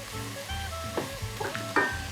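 Boneless skin-on chicken thigh pieces hit a hot pan for a tomato stew, bringing a close, steady sizzle with a few sharper crackles and a soft clink near the end.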